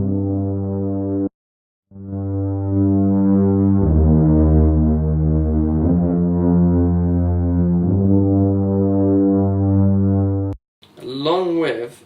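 A tuba line squashed by heavy parallel compression, with a thick, sustained, buzzy low tone and harmonics. It plays several long held notes with a brief gap near the start, then a short burst of distorted effect at the end.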